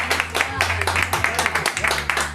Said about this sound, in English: So everyone, round of applause for yourselves.